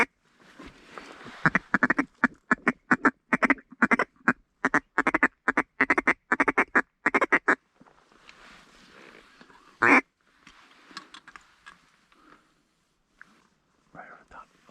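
Geese call during a goose hunt in warm January weather, a dense run of loud, rapid honking calls for about eight seconds, then scattered quieter calls, with people talking throughout.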